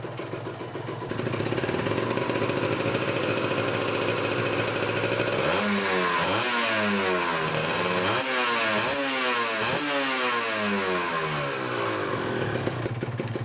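A Kawasaki Ninja two-stroke motorcycle engine, warmed up after a cold morning start, idles steadily and then is revved hard several times in a row, each rev rising and falling sharply, loud and close, with no talking.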